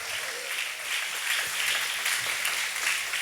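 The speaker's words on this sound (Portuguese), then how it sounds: "Pode aplaudir o Senhor." A church congregation claps together in a sustained round of applause during a service, a thick, even wash of hands held at moderate level from start to finish.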